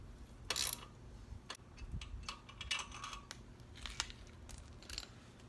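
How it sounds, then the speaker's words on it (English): Faint metallic clicks and ratchet ticks sound while a 12mm bolt is undone on a motorcycle exhaust header, with scattered light taps and small clinks of tool on metal in a quiet workshop. "Second bolt I'm going to undo is right here. It's another 12mm bolt."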